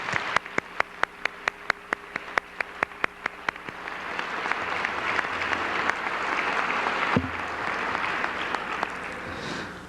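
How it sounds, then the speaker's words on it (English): Audience applause at a 2003 Norristown Area High School Hall of Champions ceremony, starting as sparse separate claps for a few seconds and then swelling into a steady, dense round of clapping from the hall. "Let's give them all a round of applause."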